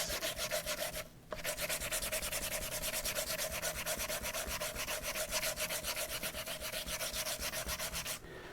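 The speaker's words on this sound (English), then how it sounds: "I'm going to take that sanding disc and I'm just going to destroy it." Rapid rhythmic rubbing of a sanding disc on paper, a dense scratchy back-and-forth texture that continues steadily with a brief pause near the start.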